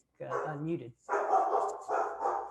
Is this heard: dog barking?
yes